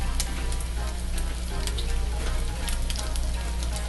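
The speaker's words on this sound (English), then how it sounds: "I probably let this cook a little bit longer than most would because I like my bacon really, really crispy" Bacon fries in a pan for okonomiyaki, cooked until very crispy, giving a loud, dense, continuous sizzle and crackle with scattered sharp pops throughout.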